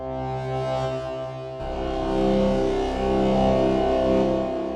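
A physical modeling synth patch built in Bitwig Grid, played through a reverb effect, sustains a droning, harmonically rich tone that shifts and swells partway through, with a long wash of echo and no talking.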